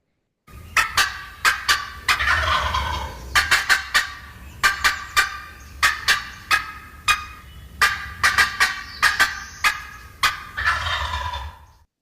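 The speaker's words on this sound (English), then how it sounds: "So that's is when you might use a cut noise." Turkey cut calls, sharp clucking bursts in rapid uneven runs, alternating with drawn-out gobble-like yelps, loud and close with no talking, as used in turkey hunting.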